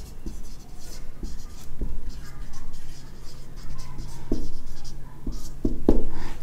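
A pen writing on paper during a maths lesson, with continuous scratchy strokes and small taps close by, under a steady low hum.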